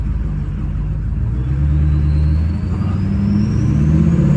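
A Ford PowerStroke 6.0 diesel truck with a manual clutch rumbles loudly and close up, its engine revving and climbing steadily in pitch without anyone speaking.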